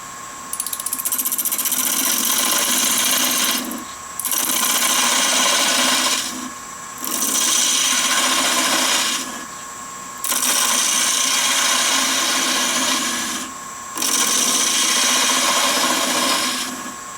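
A 3/8 detail gouge cuts a natural-edge wooden bottle stopper spinning on a wood lathe at 900 RPM. A steady, close scraping whir runs in several passes of two to three seconds each, with brief quieter gaps between them.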